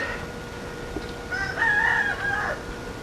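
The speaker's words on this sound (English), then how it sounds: "listening to the roosters crowing and the goats" A rooster crows once, loud and fairly close, a drawn-out cock-a-doodle-doo over a steady outdoor background hiss, beside old farmhouses along a trail in Khandbari, Sankhuwasabha, Nepal.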